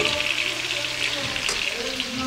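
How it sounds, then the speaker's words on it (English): Tomatoes frying in a pan, giving a loud, continuous close-up sizzle with a brief stirring clatter midway. "I'm going to fry the tomatoes"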